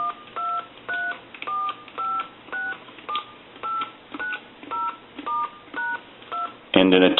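Touch-tone dialing on a brass Majesty telephone: a string of about eleven evenly spaced dual-tone beeps in a steady rhythm, close and clear, ending in a brief burst of harsher noise.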